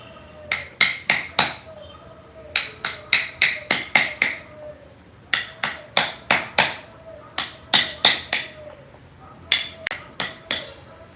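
A mallet taps a chisel while carving a parrot design into a wooden sofa part, making sharp, close wooden knocks in quick bursts of four to six strikes separated by short pauses.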